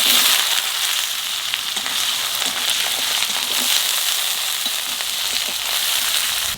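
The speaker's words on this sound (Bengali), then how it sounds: "এইবার আলু দিয়ে দেবো।" Potatoes fry in hot oil with spices including nigella seeds and garlic, a loud continuous sizzle with light stirring clicks and no talking.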